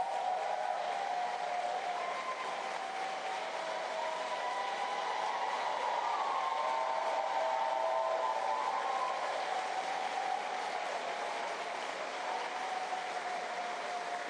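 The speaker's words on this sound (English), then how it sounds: "So I'm going to ask all our superintendents and principals in the room to please stand up so we can give you a huge round of applause." A roomful of people at a New York City public schools address applaud superintendents and principals, a long, steady wash of distant clapping that holds evenly throughout, fairly faint.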